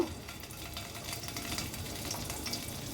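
Paneer pieces frying in hot oil for paneer fried rice, a busy close sizzle with light crackling and stirring, steady throughout and free of talk.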